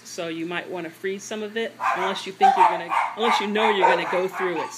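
Dogs bark and yip intermittently in the background of a home kitchen while a person talks throughout, the barking partly masked under the steady speech.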